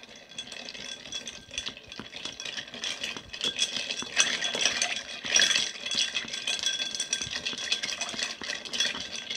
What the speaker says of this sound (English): Stir just until some of the ice dissolves and the glass is cold to the touch.